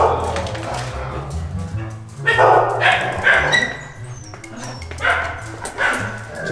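Himalayan husky puppies bark and yip in short bursts, close and loud, with several barks spread through the scene while people talk nearby.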